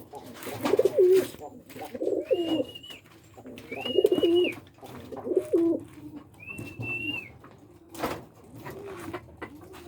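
Pigeons coo up close in a series of throaty, rolling calls, several separate phrases over about ten seconds, while someone talks quietly in between.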